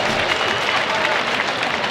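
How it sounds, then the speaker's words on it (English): Audience at a civic ceremony honoring broadcaster Jaime Jarrín breaks into loud, dense applause with crowd noise, a continuous close roar of clapping filling the short moment. "That deserves a round of applause as well."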